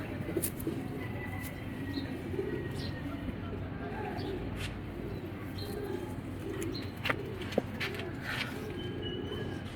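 A racing pigeon in a loft coos softly in repeated low murmurs, mixed with faint chirps and wing fidgeting, while a person talks nearby.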